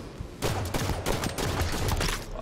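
Rapid bursts of gunfire in an arena shooter video game, dense overlapping shots layered close and loud over a constant game backdrop, with no talking.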